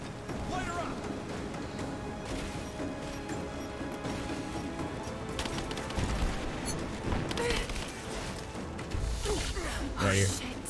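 Gunfire in the video game Rise of the Tomb Raider: scattered shots and crashes with bursts growing louder near the end, set over a busy game soundtrack.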